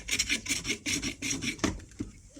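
An old hand planer works the edges of a driftwood bread board, giving repeated rasping strokes in a steady back-and-forth rhythm, close and fairly loud, with no talking.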